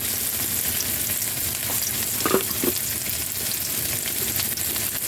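Native chicken tinola sizzles steadily in a pan while being stirred, with a constant hiss of frying and a few soft scraping clacks from the utensil near the middle.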